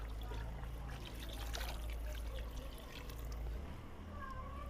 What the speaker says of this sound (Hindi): अब इसके अंदर डालने लगा मैं पानी।